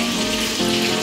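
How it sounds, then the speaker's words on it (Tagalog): Galunggong fish sizzle steadily in hot oil in a pan, a loud, close, continuous crackling hiss with a low hum beneath and no talking. "So ayan yung galunggong piniprito na natin."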